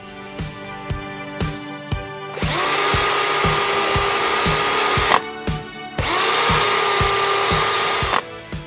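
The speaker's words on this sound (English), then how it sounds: "I'm now going to drill a pilot hole that corresponds with the hole in my end panels." A power drill bores a pilot hole through a wooden ContiBoard panel, matching a hole in the end panels: tapping, then two loud sustained whining runs broken by a short pause, close and alone.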